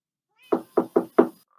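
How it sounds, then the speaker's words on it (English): Four quick knocks on a door in Minecraft land close together in an even rhythm, crisp and close, with no talking over them. "let me knock real quick"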